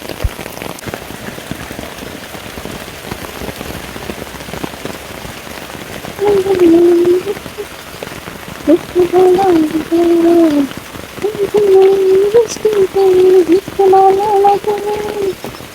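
Heavy monsoon rain pours down outdoors near a flowering tree, a dense, steady patter throughout, with a person talking over it during the second half.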